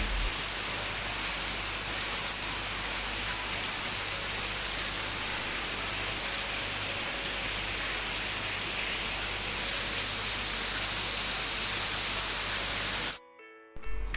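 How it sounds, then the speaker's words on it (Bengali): Heavy rain pours down in a steady, dense hiss that stays loud and unbroken for most of the stretch, then cuts off abruptly near the end. "আর দেখেন বৃষ্টি কি পরিমাণে হচ্ছে"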